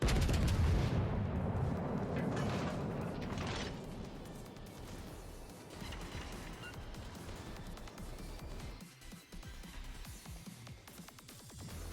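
Rapid secondary battery guns of a battleship firing in World of Warships Legends, a dense rolling barrage of booming shots with mechanical clatter, loud and continuous, easing slightly toward the end.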